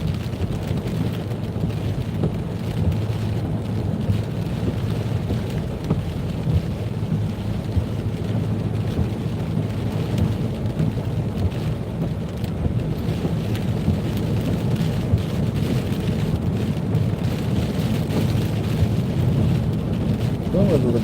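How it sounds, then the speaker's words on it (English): Heavy rain and gusting wind batter a car driving at night on a UK road near Manchester, a loud, unbroken roar with deep rumbling that stays steady for about twenty seconds. "the noise from the rain is phenomenal. And the wind."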